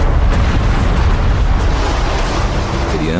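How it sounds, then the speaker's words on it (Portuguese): The 1883 eruption of Krakatoa in Indonesia is rendered as a loud, continuous, rumbling explosive roar with a deep low-end boom sustained throughout. "O vulcão Krakatoa explodiu"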